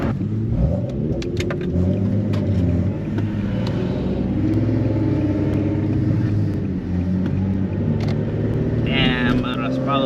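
A tuned Nissan 370Z's engine drones steadily under acceleration, rising toward high revs with a continuous, close in-cabin rumble and harmonic buzz, while occasional voices talk over it.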